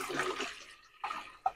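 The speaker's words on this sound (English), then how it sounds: "Let me add up water here." Water is poured into a container on a scale while chemicals are measured for paint production, heard as two or three short splashing bursts separated by brief pauses.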